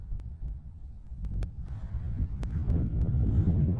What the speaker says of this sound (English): I got wind coming from over here